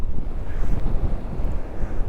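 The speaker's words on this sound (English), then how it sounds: "look at the power in those waves at the minute" Rough North Sea waves surge at a harbour on a very windy day, with a steady loud roar of water and heavy wind buffeting the microphone throughout.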